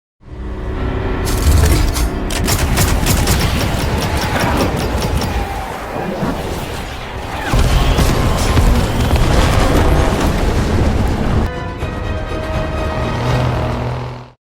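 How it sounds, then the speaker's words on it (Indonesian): Dense barrage of film sound effects as a robot fires a large volley of bombs, with continuous loud booms and explosions rolling over each other for about fourteen seconds, briefly swelling midway and near the end, with no talk. "Ternyata dia lagi siap-siap nembakin bom dalam jumlah banyak."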